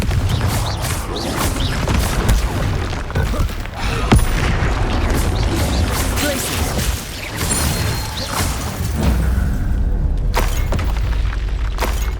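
Confringo spell blasts in the Hogwarts Legacy video game, repeated booming explosions and crashing impacts in dense, loud combat noise with shouted voices mixed in.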